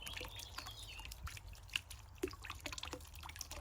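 Faint, sparse drips of water fall from a sink water feature fountain on a quiet garden patio, a couple of distinct drops standing out over a soft background hush.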